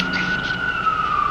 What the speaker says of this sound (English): ignore the sirens outside my building that are so ridiculously loud even though I'm so far up